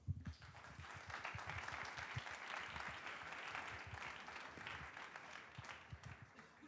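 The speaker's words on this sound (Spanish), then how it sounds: "Un aplauso, por favor" An audience at a Madrid AI talk applauds steadily for several seconds, a dense wash of clapping from a roomful of people that begins abruptly, holds evenly and tapers slightly at the end.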